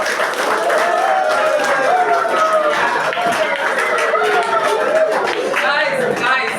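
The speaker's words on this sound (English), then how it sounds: "Give him a big round of applause." Applause from a seminar audience at a personality development and life skills training session, a sustained wash of clapping with murmured crowd chatter and a speaking voice over it, steady throughout.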